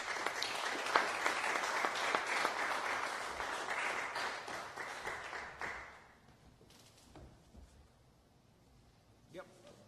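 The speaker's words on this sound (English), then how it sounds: "Round of applause for their defense." Crowd at a high school fantasy draft event applauding the defense team, brisk clapping lasting about six seconds before dying away into quiet room noise and a few scattered claps.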